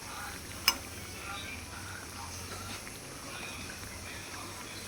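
Garelu, Telugu lentil fritters, frying in hot oil with a soft continuous sizzle and one sharp utensil clink near the start, no talk over it.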